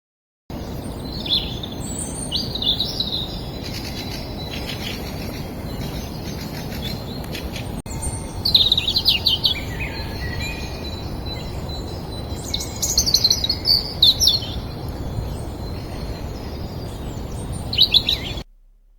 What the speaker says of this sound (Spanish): Vamos a escuchar un rato cómo cantan aquí los pájaros